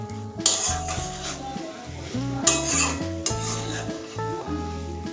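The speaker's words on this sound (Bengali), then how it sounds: "বেশ কিছুক্ষণ এভাবে নেড়ে চেড়ে টানিয়ে নিতে হবে।" Taro leaf and prawn curry stirred in a pan, Bengali style, with soft scraping and faint sizzling that stays low beneath a steady bed of background music for the whole stretch.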